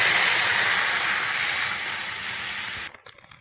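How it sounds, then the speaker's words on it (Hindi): Besan batter hits hot tempered cumin and spices in a pan, setting off a loud, steady sizzling hiss that cuts off abruptly near the end, with no voices. "मसाले पक चुके हैं, घोल को डाल देंगे"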